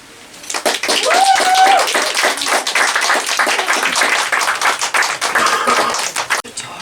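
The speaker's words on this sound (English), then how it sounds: "Can I have another round of applause for Becca?" Lively applause from a fundraiser audience after a woman named Becca finishes a reading, dense fast clapping that swells quickly, holds steady and then fades, with some voices mixed in.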